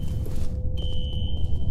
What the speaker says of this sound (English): A fire alarm. It was triggered at a security office on that floor.